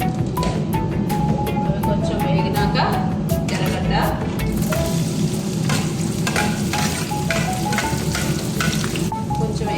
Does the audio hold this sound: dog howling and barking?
no